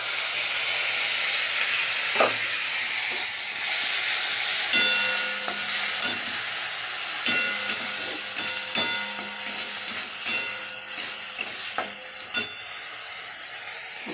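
Onion, green chili and tomato paste frying in oil in a pan, a loud steady hiss of sizzling with intermittent clanks and scrapes of a stirring utensil, nearby.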